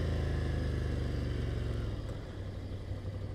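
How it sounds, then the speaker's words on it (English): A 2020 Ducati Scrambler Cafe Racer motorcycle engine revs loudly and close by, a deep, throbbing roar that holds steady before easing down slightly. "when you rev it, you get that meaty engine"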